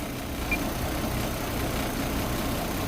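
A 2003 Chevrolet TrailBlazer engine idles steadily with a low, even rumble, heard close with no talking.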